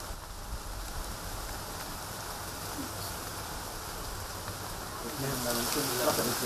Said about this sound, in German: Der Regen wird stärker.